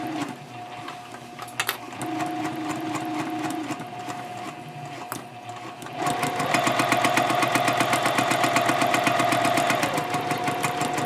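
Fabric shopping bag being stitched on a sewing machine, with quieter intermittent motor whirring at first, then a loud, steady rapid needle clatter from about six seconds onward, running alone without any voices.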